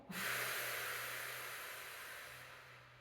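A single long inhale through the nose, a soft airy hiss that starts sharply and slowly fades over a few seconds, close to the listener.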